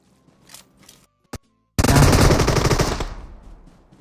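A burst of automatic gunfire from the PUBG Mobile video game rings out loud and close, a rapid stream of shots lasting over a second. A couple of faint shots and one sharp single shot come just before it.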